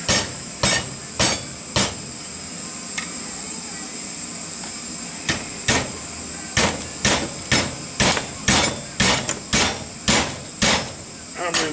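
Metal being hammered by hand, a series of sharp, ringing strikes in uneven bursts, some spaced out and others coming in quick runs, close and loud.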